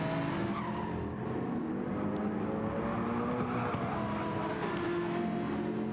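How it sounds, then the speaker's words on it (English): GT3 race cars in a racing video game, a pack thundering down the back straight into turn 12. Dense, continuous engine drone layered with tire squeal and skidding, loud and unbroken throughout. "Big train of cars coming down the back straight through into turn 12."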